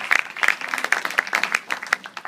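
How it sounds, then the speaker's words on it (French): Scattered audience clapping for a theatre troupe at a festival evening, a modest crowd applauding in uneven bursts for a couple of seconds with no talk over it. "Vous pouvez les applaudir déjà d'entrée de jeu, parce qu'ils sont avec nous ce soir."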